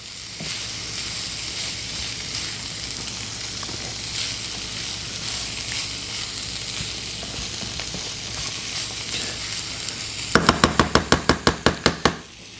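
Vegetables stir-frying in a pan with a steady loud sizzle, then a quick series of sharp rhythmic knocks and clatters as the pan is tossed near the end.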